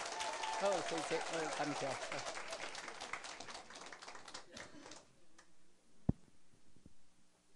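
Audience applause at the closing address of a Taiwanese seminar, loud dense clapping that fades out midway and gives way to quiet room noise and a few knocks, with someone briefly speaking over it.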